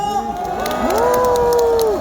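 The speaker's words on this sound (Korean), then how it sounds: "우리 윤석열 의원님께 뜨거운 박수 부탁드립니다" Crowd at an outdoor anti-impeachment rally in front of Gumi Station, cheering and shouting steadily with possible clapping beneath, while a tonal sweep from music or a PA rises through the noise.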